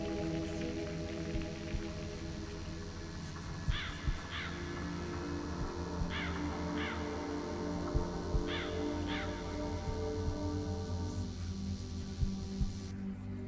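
Crows caw in short paired bursts several times over a steady, droning musical background in the video game The Lost Crown, sounding somewhat distant.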